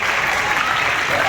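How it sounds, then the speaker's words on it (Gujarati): Enthusiastic audience applause welcoming a guest at a community organisation's gathering: a dense, steady wash of clapping that stays loud and unbroken from start to finish. "અમિતાભ બચ્ચનનું આપણી સપનાના વાવેતર સંસ્થા વતી જોરદાર તાળીઓથી સ્વાગત કરશું."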